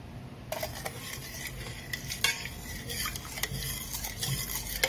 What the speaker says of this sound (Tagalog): Mix lang natin hanggang sa matulaw.